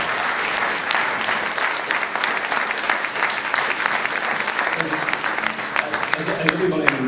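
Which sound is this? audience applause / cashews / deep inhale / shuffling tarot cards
audience applause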